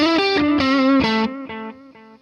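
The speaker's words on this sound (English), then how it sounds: "We'll put some delay just for good measure." Electric guitar through a Fender Bassbreaker 18/30 EL84 tube amp with delay: a few bright, slightly distorted notes ring out, then their echoes repeat and fade away in quieter steps.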